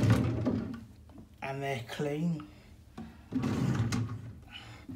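Drawers in a hotel room slide open and shut with a few short wooden knocks and scrapes, mixed in with a person talking close by.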